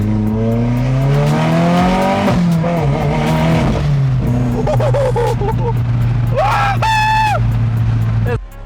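A Subaru STI engine revs loudly, heard from inside the car, its pitch rising and falling, with occasional sharp exhaust pops as people talk over it.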